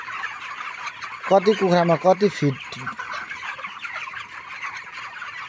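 Chickens on a poultry farm fill the space with a dense, continuous chorus of clucks and chatter, while someone speaks over them.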